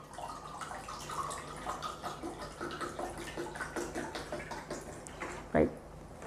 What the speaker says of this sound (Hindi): आप ऐसा पानी डाल रहे हैं जो -800 ORP का है